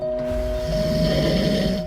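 A sleeping man snores loudly and close, one long rasping, droning inhale with a steady hum running through it, alone in a quiet room.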